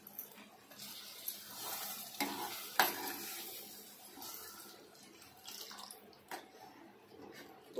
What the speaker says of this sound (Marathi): आता आपण हे पाणी टाकून घेऊया।